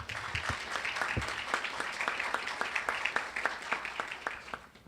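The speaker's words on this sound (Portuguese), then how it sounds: "Uma salva de palmas." Applause from an audience at a university round-table panel, moderately loud with distinct individual claps audible in the mix, steady for several seconds and then thinning out toward the end.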